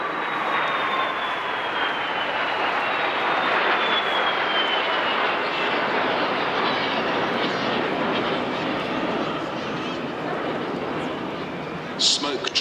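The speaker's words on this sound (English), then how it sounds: "that gorgeous sound of the 3 aircraft as they flew from the pier end past us" Three BAC Strikemaster jet training aircraft trailing smoke roar past loudly at an airshow in Clacton, a sustained broadband rush with a descending whine as the engines pass close by and fade.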